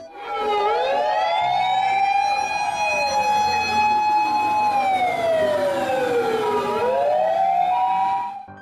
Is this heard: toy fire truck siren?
yes